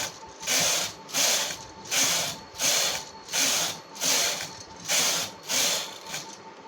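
A hand-operated knitting machine for making caps runs stitches with waste thread, its carriage swept back and forth in seven even, loud ratcheting passes, each a clattering mechanical rasp separated by brief pauses.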